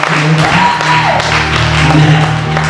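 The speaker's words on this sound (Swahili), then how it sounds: "naomba mpigie Bwana makofi mengi, shangwe na vigelegele" A church congregation claps steadily and loudly in a sustained wash of applause, with low musical tones droning underneath.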